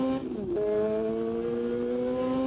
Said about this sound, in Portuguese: Tem que começar a acelerar a moto forte na BR, né?